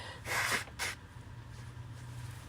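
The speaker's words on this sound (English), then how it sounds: "I'm going to blow my nose, sorry." Two short, breathy blasts of air through the nose, close and fairly loud, followed by quiet.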